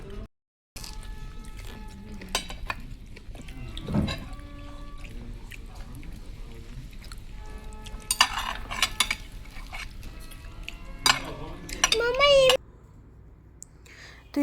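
Spoons and cutlery clinking against dishes during a family meal, scattered sharp metallic clicks and scrapes arriving irregularly at close range, mixed with a voice and people talking nearby.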